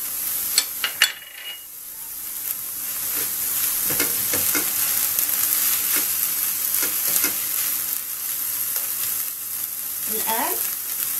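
Onion and garlic fry in a pan with a steady, close sizzle, broken by a few scrapes and clinks as they are stirred, and no talking.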